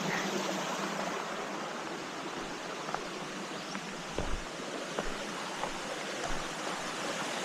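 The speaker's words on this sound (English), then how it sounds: "Creek number 2." Steady broadband rush of creek water flowing over rocks beside a forest trail on the North Chickamauga trail, continuous and fairly close, with a few faint knocks and no talking.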